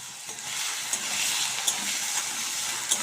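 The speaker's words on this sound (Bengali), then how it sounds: "তারপরে আলুগুলো একটু নেড়ে দেবো।" Small diced potatoes fry with a steady, close sizzle in a pan. A spatula stirs them now and then, making a few brief scraping clicks. No one speaks.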